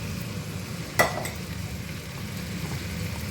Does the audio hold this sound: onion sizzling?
yes